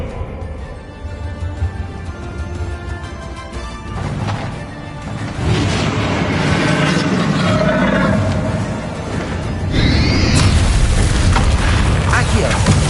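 Fiery spell explosions in Hogwarts Legacy battle, loud booming bursts and crashes layered over dense combat noise and music, with a voice speaking amid the chaos.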